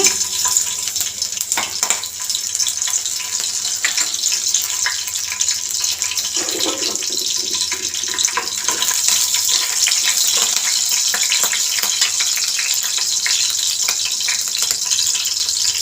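Green chillies dropped into hot oil in a pan for tempering a Telugu okra curry, giving a steady broadband sizzle and crackle throughout with a brief louder burst partway, no talk.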